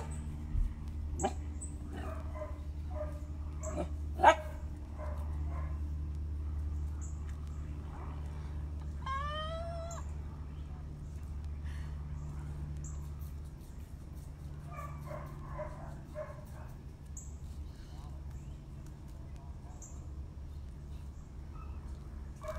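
A dog in a puppy-school class gives a few short yips and whimpers over a steady low room hum, with faint voices murmuring in the background.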